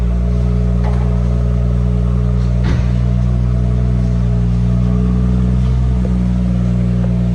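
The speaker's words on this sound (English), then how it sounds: "Okay, Peter, if you want to start the car for me" A BMW M140i Shadow Edition automatic hatchback idles steadily after starting, a constant low engine hum with faint clatter throughout and a couple of brief knocks.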